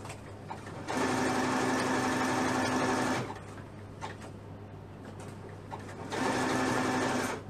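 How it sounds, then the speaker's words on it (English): A sewing machine zigzag-stitches elastic onto children's leggings in two loud, steady whirring runs of about two and three seconds, separated by a quieter pause with faint handling noises. "I'm gonna put the zigzag right into the elastic"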